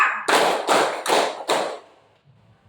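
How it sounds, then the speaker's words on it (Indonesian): A school pupil claps three times in a classroom: three loud, sharp claps at an even pace, followed by quiet room tone. "Tepuk cuma 3 kali. Harusnya 4 kali."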